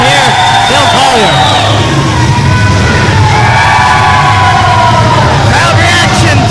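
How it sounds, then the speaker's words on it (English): A packed wrestling crowd roars and cheers for heavyweight champion Bill Collier, a loud, sustained wall of yelling and whistling with rising shouts throughout, with no break in the noise. "Crowd reaction to their heavyweight champion, Bill Collier. Definitely huge pop for him."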